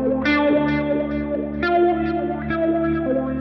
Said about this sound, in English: how a guitar made of concrete sounds versus a guitar made of wood